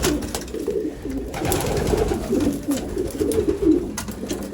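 Racing pigeon cock bird, a Turcon Wolverine, cooing repeatedly in a loft with a low throaty rolling rhythm, close and steady throughout.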